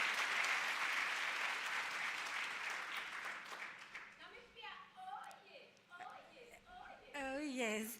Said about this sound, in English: round of applause once again.